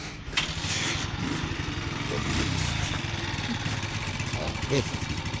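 A Bajaj CT 100 motorcycle engine, freshly overhauled, idles steadily nearby, its low, rumbling putter continuing without a break throughout.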